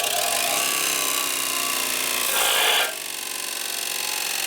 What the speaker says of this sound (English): grind these surfaces here flat by just holding it in there